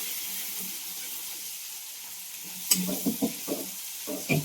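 Ground garlic, coconut and coriander paste roasting in a pan: a quiet sizzle at first, then a series of close, rhythmic scraping stirs in the latter half.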